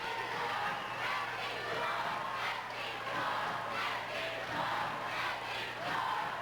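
A high school basketball crowd in a gym roars steadily, with rhythmic swells like chanting rising and falling. The crowd noise is dense but somewhat distant.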